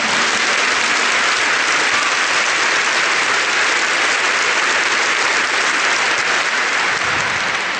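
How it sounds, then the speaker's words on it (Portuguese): A church congregation claps for the Lord in a loud, dense, sustained round of applause that fills the room without a break, with no talking over it. "Give the Lord a big clap for that."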